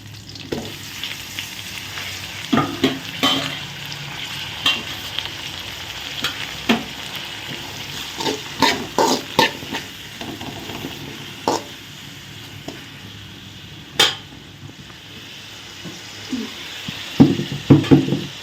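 Onions, garlic and tomatoes sizzle in a pan while being cooked for a drumstick curry, a continuous frying hiss broken by intermittent clinks and scrapes of stirring.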